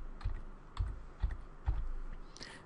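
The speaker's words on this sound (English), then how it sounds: "I'm going to type regedit." A computer keyboard is typed on in a short burst of several separate, soft, close keystrokes spaced irregularly, with no talking.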